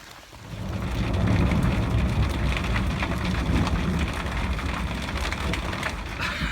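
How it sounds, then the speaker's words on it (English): Heavy rain drums on the roof of a garden shed at an allotment, a dense close patter that swells quickly and keeps up a loud, steady downpour, with no speech. "I wasn't expecting rain, so I'm going to try and cycle home in this, although it's getting heavier."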